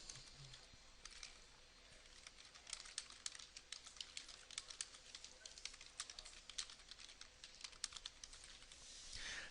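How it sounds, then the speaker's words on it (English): Someone types on a computer keyboard in a quiet office: a faint, rapid, uneven run of key clicks that lasts the whole stretch, with no talking. "And then I can type in a message."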